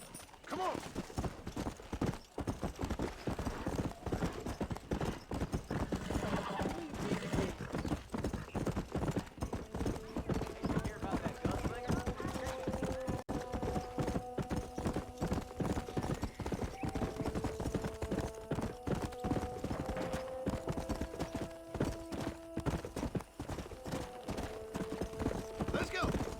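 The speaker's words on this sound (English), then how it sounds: "Está aqui o cavalo." Horse hooves clip-clopping at a steady pace with occasional neighs in the Red Dead Redemption video game on Switch, continuous and close, with voices talking over them.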